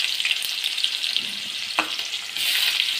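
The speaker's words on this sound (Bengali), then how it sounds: "এবার এখানে আমি পেঁয়াজ দিয়ে দেবো।" Onion frying in hot oil for a begun ilish dish, a bright dense sizzle with a sharp crackle near the middle that swells louder at the end, no voices.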